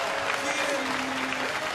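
Baseball crowd at a Minnesota at Pittsburgh game applauding a batter coming out to hit in the 8th inning, a steady wash of clapping and cheering that holds at an even level for the whole stretch, with no speech over it.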